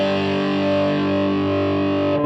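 Distorted electric guitar through a Mesa Mark IIC+ amp model with a 4x12 cabinet on an Axe FX, no other pedals: one thick, saturated chord held steadily and loud before cutting off.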